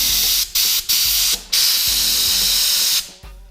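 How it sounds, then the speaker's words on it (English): Compressed air is blown through the small holes of a carburetor being rebuilt, loud, close hissing blasts in several bursts separated by short gaps, then one long sustained spray that tapers off. "Make sure you blow air through. Make sure air is coming out of the little holes."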